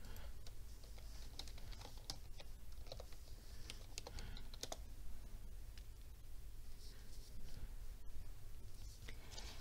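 Login credentials typed on a computer keyboard, a run of quick, light key clicks in bursts over a steady background hiss, with no talking.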